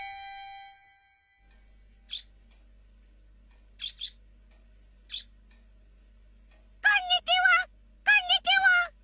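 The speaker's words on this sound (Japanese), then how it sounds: "インコは人の真似をして鳴くからな。 変な鳴き方。" A cartoon parakeet gives a few sparse, short chirps over a faint low hum, then two louder bursts of rapid warbling calls near the end.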